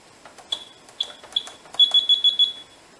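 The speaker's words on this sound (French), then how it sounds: "Donc on va attendre les 5 minutes d'alarme générale." A Finsecur Type 2 fire alarm panel sounds its general alarm as a series of short high electronic beeps, sparse at first then quicker, mixed with light clicks, close and moderately loud.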